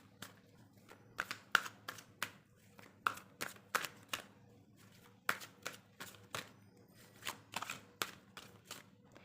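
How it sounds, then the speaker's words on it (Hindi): A deck of tarot cards shuffled by hand at close range, a quiet run of crisp, irregular slaps and riffles spread across several seconds with faint room hiss between them. "तो पहले अपन अपने कार्ड शफल कर लेते हैं।"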